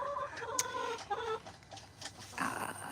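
Backyard hens clucking in low, murmuring bursts close by, several birds overlapping with soft chattering calls and a brief higher squawk, no talk.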